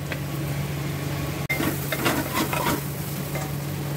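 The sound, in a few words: stirring amchur powder into cooking vegetables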